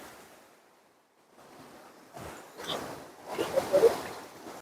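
A swollen river in a Konkan village flows strongly in the monsoon, its rushing water fairly faint and distant, swelling in uneven surges that grow louder toward the end.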